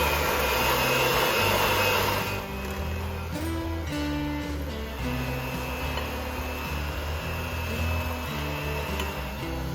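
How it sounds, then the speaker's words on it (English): An electric hand mixer beats chocolate cake batter of vanilla, salt and cocoa paste, a steady whirring motor drone running continuously and close, its pitch shifting slightly as the beaters work. "Beat that together with your hand mixer."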